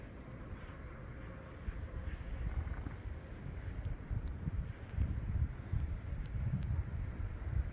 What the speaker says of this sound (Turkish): Rüzgar başladı.